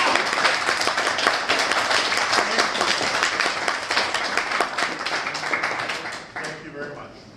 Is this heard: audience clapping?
yes